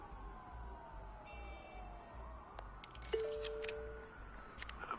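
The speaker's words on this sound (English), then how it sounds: "There are quite a few police cars convening on your location." Police car sirens in a Batman Telltale game, faint and distant wailing tones sliding in pitch over a low rumbling background, with a few sharper electronic blips near the end.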